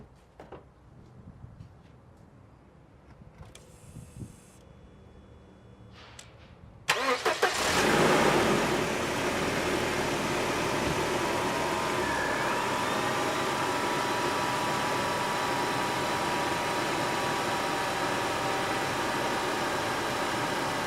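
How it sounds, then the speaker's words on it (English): A car engine cranks and catches after a few quiet seconds of small clicks, then settles into a loud, steady idle close by. "And now we start the engine."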